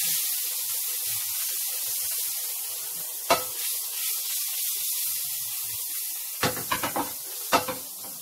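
Butter sizzles in a hot pan for pancakes, a steady soft hiss broken by a few sharper crackling bursts near the end.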